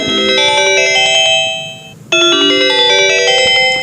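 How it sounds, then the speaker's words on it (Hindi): A mobile phone ringtone plays through headphones in a physics classroom demonstration, a loud, bright, repeating electronic melody of chiming tones that dips briefly in the middle and then resumes at full strength, with no talking. "हम मोबाइल का जो रिंगटोन जो है इस हेडफोन के जरिए सुनने की कोशिश करेंगे"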